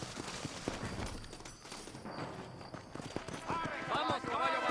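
Galloping horse hooves in a Red Dead Redemption game scene, a quick rhythmic clatter running through the whole clip, mixed with game ambience, with a voice joining near the end.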